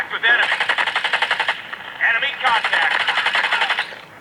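Rapid automatic gunfire rattles in two long bursts in a mobile shooter game like PUBG Mobile or COD Mobile, loud and evenly paced, with a brief pause between bursts and no talking over it.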